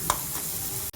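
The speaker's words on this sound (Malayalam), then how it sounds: "നമുക്ക് തേങ്ങാക്കൊത്തിട്ട് അതും കൂടി വറുക്കാം" Coconut pieces fry in a pan for Onam mango paayasam, a steady soft sizzle with light stirring, one brief clink near the start and a short drop-out near the end.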